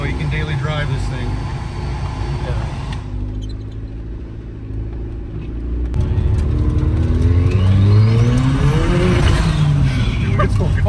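A turbocharged 1995 Honda del Sol Si pulls hard in gear, its engine rising in pitch through a shift with a loud, close drone and turbo whir, while people talk over it.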